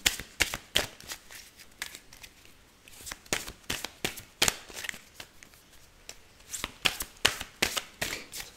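Tarot cards shuffled in repeated quick riffling bursts, crisp papery flutters rising and falling in an uneven rhythm, close and fairly loud with no talking.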